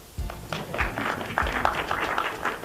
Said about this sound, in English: Now's a good time to clap